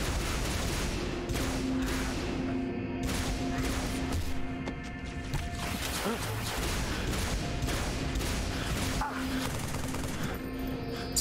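Dense battle noise from the PC shooter Halo 3: ODST, where sniper rifle fire cracks amid continuous gunfire and explosions. A voice is audible under the din.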